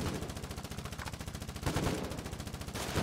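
Rapid automatic gunfire from a weapon in the video game Foxhole, a fast continuous stream of evenly spaced shots with a brief heavier burst midway, moderately loud and without speech.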